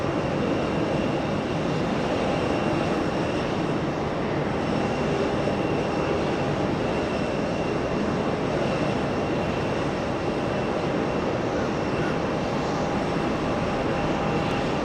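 Two Airbus A380s at JFK fill the air with a continuous, broad jet engine rumble, steady and fairly loud throughout with no voices.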